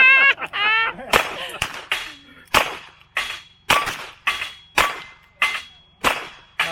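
Gunfire rings out at a cowboy action shooting stage, a rapid series of about nine sharp, loud reports spaced roughly half a second apart, following a brief voice at the start.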